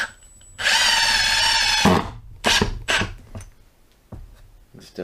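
A Milwaukee M18 FID2 Gen 3 Fuel Surge impact driver on speed 2 drives a screw with a close, loud whine lasting over a second, then gives several short bursts and finishing taps.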